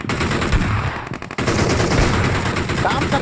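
Rapid automatic gunfire in a battle royale video game, a loud dense burst of shots with a brief pause before the firing resumes. Players talk over it.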